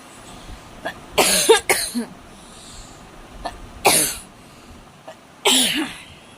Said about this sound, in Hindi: बोलने से खांसी उठ रही है